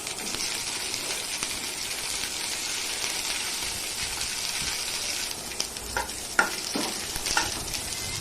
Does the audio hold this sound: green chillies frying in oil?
yes